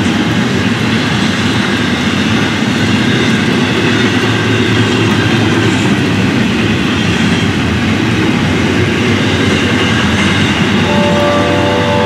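An FEC diesel locomotive with EMD engines rumbles past close by, a steady heavy roar with rail clatter and a faint horn-like tone near the end.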